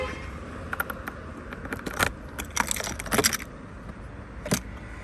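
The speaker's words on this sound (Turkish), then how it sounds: "Bagaj şöyle anahtarla açılıyor" Keys jangle and clink in a quick series of metallic rattles, ending with a lock-like click as the storage compartment of an RKS Blazeer XR 50cc scooter is unlocked, close by and fairly quiet.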